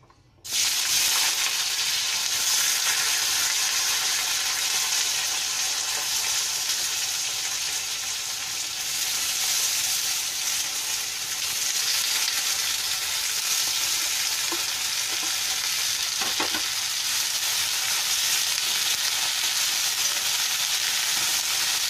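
Cumin seeds hit hot oil for tempering in a pan for potato bhujia, bursting into a loud, dense, continuous sizzle that holds steady nearly throughout, with a few faint crackles.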